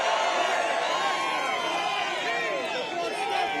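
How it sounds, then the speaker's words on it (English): A large crowd in the South Bronx cheers and roars at a Trump rally, a steady dense wall of voices with whoops rising and falling throughout. "What a crowd."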